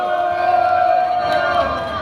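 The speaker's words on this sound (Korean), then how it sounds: "뜨거운 박수로 시작하겠습니다" A crowd at an outdoor denunciation rally held by a bereaved families' association in Seoul cheers loudly and continuously, a dense mass of voices with a few raised shouts.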